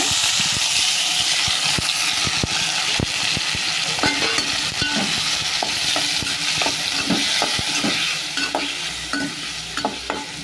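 Loud, close sizzling of chicken sautéed with ground ginger, garlic and onion paste for a chicken gravy, with frequent sharp spatula scrapes and knocks against the pan throughout.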